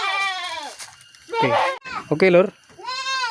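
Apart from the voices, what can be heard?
Etawa goats bleating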